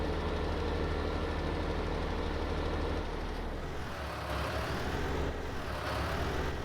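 A tractor engine idles in the video game Farming Simulator 19, giving a steady, dense mechanical drone that holds at a constant level and shifts slightly in tone partway through, with no talking.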